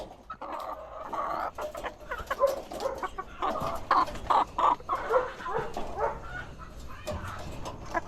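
Chickens clucking and calling steadily while eggs are collected, several birds close by with overlapping clucks and soft squawks, no talking heard.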